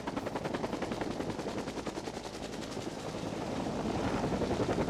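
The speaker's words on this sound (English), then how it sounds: "That's the helicopter that we came in." A helicopter returns to a forest-fire crew to sling in firefighting gear, its rotor chopping loud and close in a steady rapid rhythm that builds slightly toward the end.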